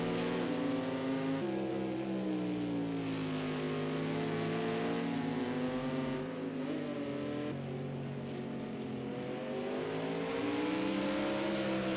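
A GT race car from the 1998 FIA GT Championship set in Project CARS 2 lapping Oschersleben: a loud, steady engine drone shifting pitch as it brakes and accelerates through corners, heard alone.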